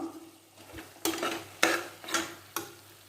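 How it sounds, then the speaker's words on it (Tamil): A spoon scrapes and stirs vegetables and curry leaves sautéing in a pan for kovakkai rice, giving four or five distinct close strokes at a steady rhythm over a soft sizzle, with no voices. "நம்ம போட்ட வெஜிடபிள்ஸ்லாம் நல்லா வதங்கி எடுத்து இதோட கொஞ்சம் கருவேப்பிலை சேர்த்துக்கலாம்"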